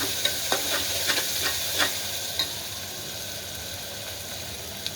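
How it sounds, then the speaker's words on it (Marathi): Tomatoes fry for khichdi in a low, steady sizzle punctuated by several soft stirring taps and scrapes spread across the stretch, without any speech. "आता आपण टमॅटो टाकूया टोमॅटो आपला पूर्ण फ्राय करून घेऊया"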